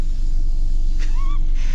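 A 2025 Ford Bronco Sport Outer Banks three-cylinder SUV engine running rough: a low, uneven rumble runs steadily throughout, with a brief higher whine wavering near the end; no voices.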